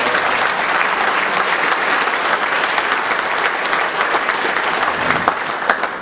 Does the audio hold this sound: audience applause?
yes